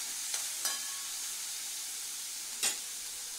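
Sliced onions and urad dal vadiyalu frying in a pan over a medium gas flame, making a faint, steady sizzle with a few brief stirring clicks, close and quiet with no voices.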